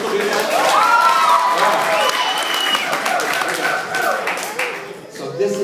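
Audience applause for a young volunteer at a sword swallower's outdoor festival show, a loud, steady wash of clapping and crowd noise with a whistle or two, fading slightly near the end.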